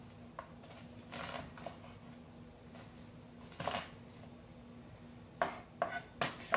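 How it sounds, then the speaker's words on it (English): Carrots and celery being cut small for chicken soup: scattered knife taps and clacks on a board, quiet at first, then several sharper chops near the end over a faint steady hum. "You can cut your vegetables as big or as small as you like."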